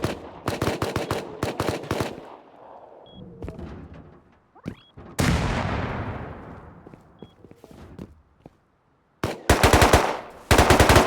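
Loud bursts of automatic gunfire in Rust during a sea-base raid defense, with rapid volleys at the start, a long booming blast midway, quieter pauses, and more fierce bursts near the end.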